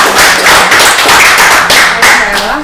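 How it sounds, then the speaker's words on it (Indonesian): An audience at a military podcast dialogue claps in a loud, close burst of applause that swells in uneven waves for a few seconds. "Tepuk tangan sekali lagi dong."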